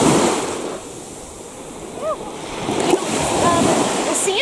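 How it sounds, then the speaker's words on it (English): Ocean waves wash in on a white sandy beach at Mystic, Connecticut, a broad surging hiss that swells and recedes under wind buffeting, with brief voices heard faintly. "the way the waves come in"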